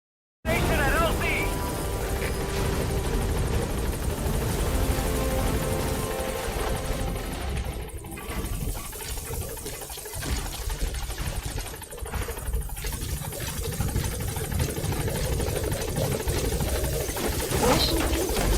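A helicopter in Metal Gear Solid V: The Phantom Pain, its loud rotor thrum and engine drone continuous and close throughout, with voices speaking over it.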